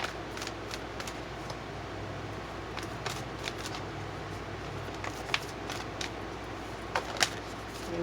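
Tarot cards are shuffled by hand close to the microphone, a quiet run of soft riffling and sharp papery snaps at irregular intervals over faint room hiss.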